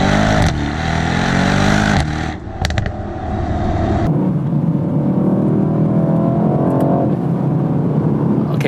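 A 2019 Mercedes E63s AMG in manual mode through corners, its engine and exhaust close and loud, revving hard, cutting off sharply around shift points, then settling into a steady deep drone as the car pulls on.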